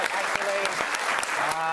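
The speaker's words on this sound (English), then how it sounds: "Let's keep that applause going" Studio audience applause on a TV panel comedy show, brisk clapping with audible cheering and voices mixed in, lively and continuous over a short stretch.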